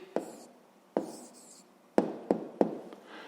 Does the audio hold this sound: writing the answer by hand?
yes